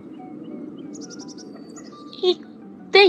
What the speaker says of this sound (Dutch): denk dat de vogeltjes heel vrolijk zijn. Ze zingen al heel de tijd zo mooi.